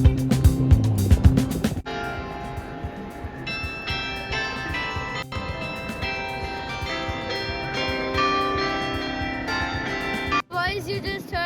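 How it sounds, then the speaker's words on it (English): Carillon clock bells in Brussels, a 24-bell clock ringing a sustained run of tuned chimes that overlap and ring on, with street noise beneath and brief other sounds at the start and end. "this clock has 24 bells"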